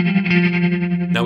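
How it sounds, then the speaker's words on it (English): An electric guitar soaked in heavy reverb with an out-of-phase auto pan tremolo rings out as a sustained, shimmering chord, then a fresh strum enters briefly at the very end. "and an auto pan that is set out of phase to give it a slight tremolo effect"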